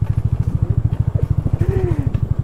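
A motorcycle engine with its check-engine warning on chugs loudly and steadily up close, its rapid pulsing beat constant throughout, with faint voices in the background.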